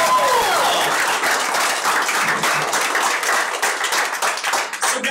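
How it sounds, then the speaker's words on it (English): An audience at a live comedy show in New York breaks into loud, sustained applause, dense clapping that carries on for several seconds and only slightly thins toward the end. "let's give a round of applause for him"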